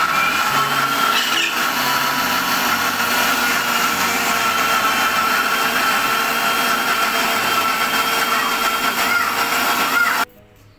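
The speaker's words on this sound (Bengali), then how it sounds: "এবার ব্লেন্ডারে আমরা ব্লেন্ড করব।" A kitchen blender whirs at high speed, grinding chopped green mango, mint leaves, black salt and green chilli into a paste; the steady, loud motor drone runs nearly ten seconds, then stops abruptly.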